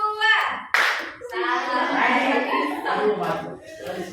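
Indonesian schoolchildren in a classroom clap on their teacher's cue. A crisp group clap bursts out early, mostly covered by children's voices and chatter, with a softer clap near the end.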